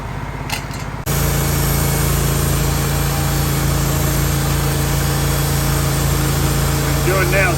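A tractor engine runs at a steady, loud idle-like drone while logs are loaded for milling on a Wood-Mizer LT15 sawmill, starting abruptly after a brief quieter moment and continuing unbroken.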